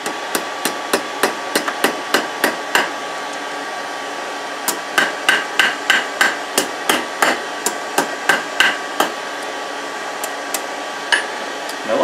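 A hammer strikes a hot steel bar on an anvil while a coiled candle holder is forged, ringing out in a fast, steady series of sharp, loud metallic blows, then a short pause before another run of evenly spaced strikes.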